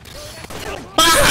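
Gunfire bursts in the JJK Cursed Clash fighting game striking a player, a loud dense burst arriving abruptly near the end after quieter game sounds and chatter.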